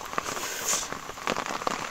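Heavy rain drums on a tent, a dense continuous patter with sharper individual drops tapping close by throughout.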